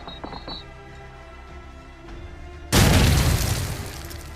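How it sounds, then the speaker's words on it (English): Grenade from Call of Duty 4: a few faint clinks and bounces over quiet game ambience, then a sudden loud, broad explosion whose roar decays over the last second and a half. "Go back to COD 4 and listen to where the grenade is bouncing around."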